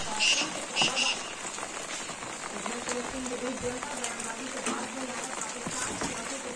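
Heavy rain falls outdoors under a fully clouded sky, a dense, steady patter on surfaces all through, with a few louder splashes near the start.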